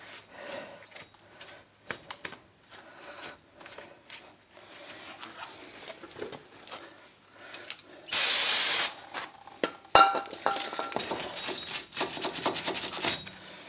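Brake cleaner sprayed onto front brake parts of a 2010 Kia Soul during a pad and rotor replacement: a loud, steady aerosol hiss of about a second, then further spraying mixed with clinks and handling noises, no talking.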